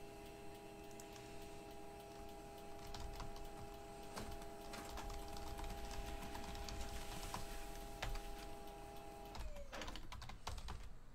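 A printer runs a trade sheet printout indoors, a steady mechanical whir with a sustained tone and rapid ticking that stops near the end, with no talk.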